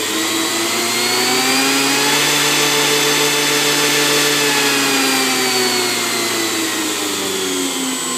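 A high-amp alternator with an external rectifier spins at idle speed on a test rig, giving a steady, loud whine with stable tones that hold for the whole stretch and rise only slightly in the middle.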